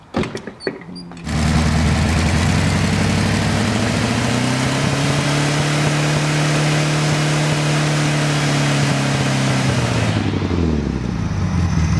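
A modified Volkswagen Beetle engine fires up after a second of handling noise, then runs loud and steady at close range with a throaty intake roar for about nine seconds before dropping off. No voices.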